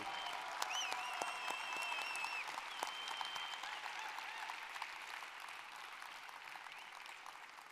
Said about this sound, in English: I want to give a big, massive round of applause to them for making this dream come true